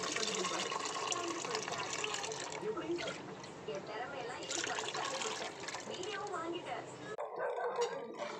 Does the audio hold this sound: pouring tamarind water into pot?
yes